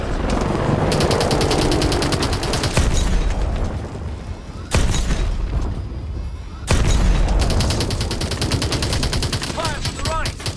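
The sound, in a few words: gunfire in video game Call of Duty: Advanced Warfare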